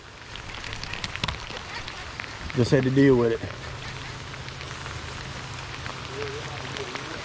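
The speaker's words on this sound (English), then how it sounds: "Oh, it's pouring." Heavy rain pours down during a bass fishing tournament, a steady hiss that runs under the whole stretch while someone speaks briefly in the middle.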